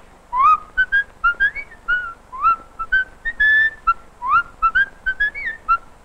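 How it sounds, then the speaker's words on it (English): A person whistles the tune Pop Goes the Weasel, a clear, close melody of short bright notes and a few held ones, heard alone with no voices. "you want me to whistle Pop Goes the Weasel again?"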